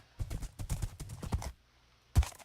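Minecraft horse hooves clop in a quick uneven rhythm on a hard surface, close and fairly quiet, then stop, followed by a single louder thud.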